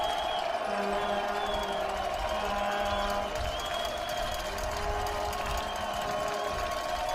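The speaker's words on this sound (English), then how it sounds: "Crowd getting behind the RPI defense." A college football crowd at an RPI versus Union trophy game cheers steadily for the RPI defense, a sustained distant roar with scattered whistles and tones over it.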